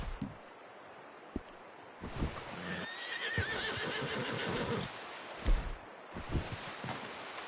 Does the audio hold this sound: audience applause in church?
no